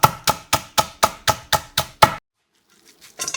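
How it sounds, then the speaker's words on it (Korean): A knife slices thinly through a small onion on a cutting board, nine quick, evenly spaced crisp chops in close succession, then a pause with faint rustling as the cook gathers the pieces. "양파 작은 거 1개를 얇게 채 썰어 준비하고"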